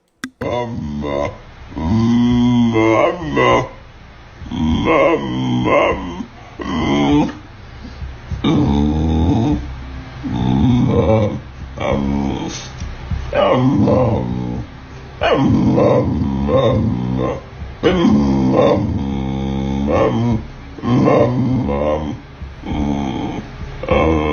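A dog growls and makes snoring-like throaty rumbles in repeated loud bursts over about twenty-four seconds, with short pauses between them. A person talks across much of it.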